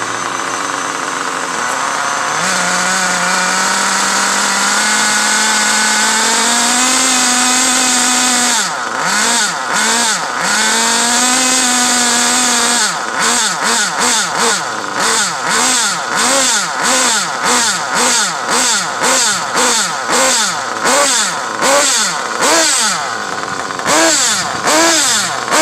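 A small gas engine that fired up on the first pull, running steadily with its pitch rising, then settling into a strong pulsing, throbbing idle, loud and close, with no talking.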